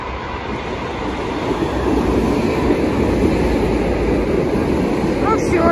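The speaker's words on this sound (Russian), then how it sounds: "несется моя" An electric commuter train (elektrichka) rushes into a station, its steady broadband rumble and rolling wheel noise filling the scene loudly, with a faint high squeal near the end as it arrives.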